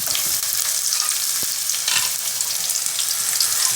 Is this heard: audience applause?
no